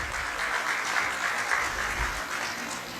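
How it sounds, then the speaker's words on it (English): A convocation ceremony audience applauds as distinguished guests are welcomed, a steady, fairly distant wash of clapping from a large crowd that holds evenly throughout. "May I request everyone for a loud round of applause once more"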